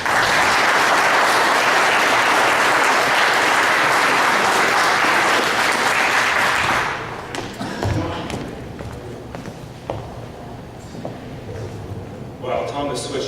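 Loud, sustained audience applause at a Commonwealth Foundation general meeting fills the room for about seven seconds, then breaks off into scattered thumps, shuffling and a few voices.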